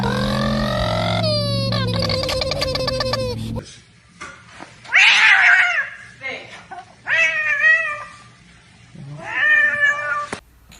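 A cat yowls loudly and repeatedly, first in long drawn wails, then in several separate close, strained caterwauls with pauses between them; a person speaks briefly among the cries.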